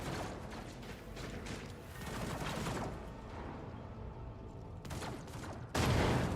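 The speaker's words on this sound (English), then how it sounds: "I hear gunshots." Rapid bursts of distant gunfire in a Warhammer 40,000 video game crackle and rattle over a mechanical, clanking background, fairly faint with a few sharper volleys.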